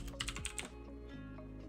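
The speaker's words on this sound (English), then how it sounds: "Now if I type here" Computer keyboard typing, a quick burst of several crisp keystrokes followed by a couple of scattered taps, close and fairly quiet, with no speech.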